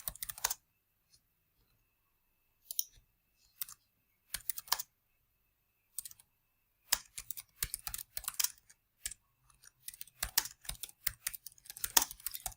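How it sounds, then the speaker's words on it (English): Close, quiet typing on a computer keyboard comes in short bursts of rapid key clicks separated by silent pauses. "I can start typing."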